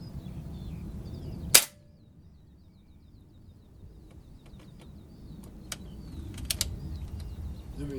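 A Beeman 1357 air gun fires one sharp, loud crack, followed by quiet stillness and a few faint mechanical clicks and taps.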